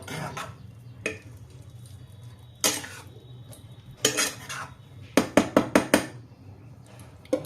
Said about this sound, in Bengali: দিয়ে ভালো করে নুনটা প্রথমে চালিয়ে নেব।